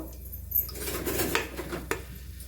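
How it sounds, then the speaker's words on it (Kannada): Whole garam masala spices such as cinnamon, cloves, bay leaf, cardamom and fenugreek leaves go into hot oil for biryani, giving a close, steady crackle with clinks of utensil against pan and a sharp tap near the end. "ಗರಂ ಮಸಾಲೆಗಳು, ಚಕ್ಕೆ, ಲವಂಗ, ಪಲಾವ್ ಎಲೆ, ಮೆಂತ್ಯ ಸೊಪ್ಪು, ಏಲಕ್ಕಿ ಎಲ್ಲ ಹಾಕಿ ಫ್ರೈ ಮಾಡ್ಕೋಬೇಕು"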